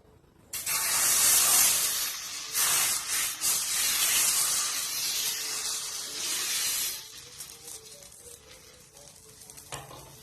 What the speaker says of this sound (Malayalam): ചട്ടിയിൽ നല്ലെണ്ണ തേച്ച് കൊടുത്തിട്ടുണ്ട് നന്നായിട്ട് ചൂടായി വന്നിട്ടുണ്ട് നമുക്ക് ഇതിലേക്ക് മാവ് ഒഴിച്ചു കൊടുക്കാം